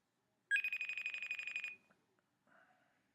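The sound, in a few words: telephone ringing for a call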